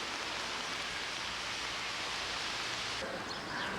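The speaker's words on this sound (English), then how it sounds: "Physically fit in Paris in the rain." Rain falls in Paris as a steady, dense hiss that holds evenly throughout with no other sounds standing out.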